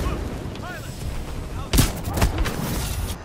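Shotgun blasts in Titanfall 2, two loud close booms a half second apart over a busy combat background with distant gunfire and effects.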